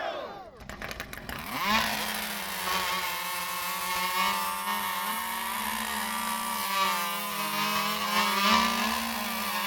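Chainsaws cut log cookies at a women's loggers' competition, roaring loud and continuous after a quick start. Engine pitch wavers under load as they bite through the wood, with no clear speech.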